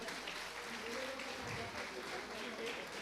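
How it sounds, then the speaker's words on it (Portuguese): Applause from a church congregation at a celebration service, a broad steady wash of clapping lasting a few seconds with voices mixed in, moderately loud and continuous. "vamos aplaudir os irmãos, amém?"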